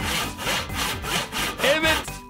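Rhythmic back-and-forth strokes of a hand saw cutting through wood, several steady passes in close succession, loud and near with no talk.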